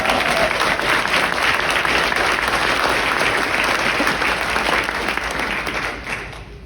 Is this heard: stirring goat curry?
no